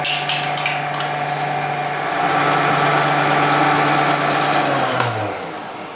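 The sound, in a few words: electric mixer beating yogurt into muffin batter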